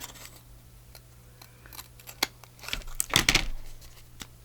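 Scissors cut paper at an angle to shape a junk journal tag, giving a few close, crisp snips and rustles that cluster near the end after a quieter stretch of light handling.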